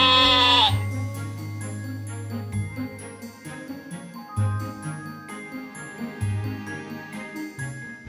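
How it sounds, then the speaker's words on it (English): A sheep bleats loudly and close at the start, and jingling bell tones ring out across the rest of the clip. "Five sheep."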